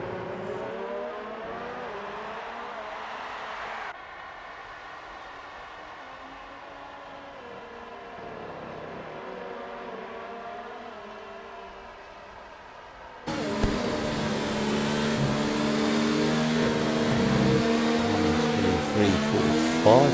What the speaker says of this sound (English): Cars out on outlaps at the moment